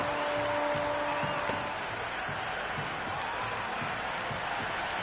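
A crowd cheering a boundary four in the video game Cricket 26, heard as a broad, steady wash of stadium noise with no distinct peaks.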